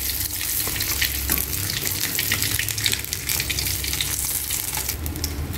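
Tilapia deep frying in a pan of hot oil gives a loud, continuous crackling sizzle with dense popping and spattering throughout, close and unbroken, with no voices.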